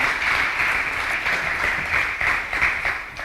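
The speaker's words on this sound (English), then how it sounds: "Another big round of applause for our Vice-Chancellor" Audience applause for the Vice-Chancellor at the launch of the Sol Plaatje University Sport Precinct, a dense, sustained wash of clapping from a large crowd, steady throughout.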